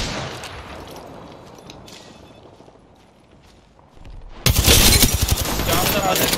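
Gunfire in the video game Apex Legends, rapid automatic bursts erupting loudly after a quieter stretch of ambient game noise, continuing as a dense fusillade to the end.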